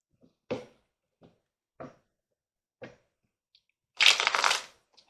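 Well-worn tarot cards handled and shuffled: a few isolated soft taps and snaps spaced apart, then a short dense riffle burst near the end, close and alone in an otherwise quiet room.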